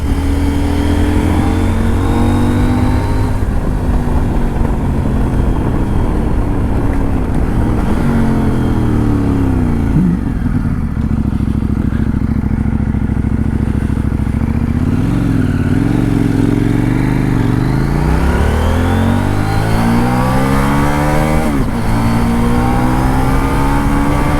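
A CF Moto 800MT motorcycle engine revs close and loud, its pitch climbing and falling repeatedly through long sweeps, dropping to a rumbling idle midway before rising again.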